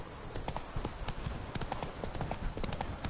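Roach, a horse in The Witcher 3: Blood and Wine, gallops with a quick, steady clip-clop of hooves, close and continuous throughout.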